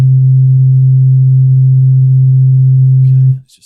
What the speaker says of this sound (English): let's have a look at the sine wave on the electro